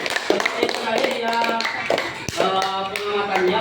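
Classroom applause for group two, scattered light hand claps and taps at close range mixed with people speaking.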